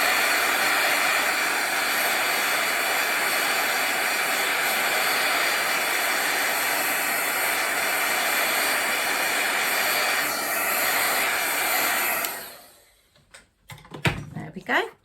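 A hair dryer blows steadily and loudly over wet ink speckles on a paper art page, a constant broadband whoosh that runs for about twelve seconds before cutting off, followed by a few faint handling clicks.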